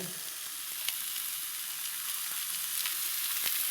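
A little oil sizzles steadily in a pan beside lightly fried katla fish for an omelette, a constant crackling hiss with occasional sharper pops and faint stirring clicks.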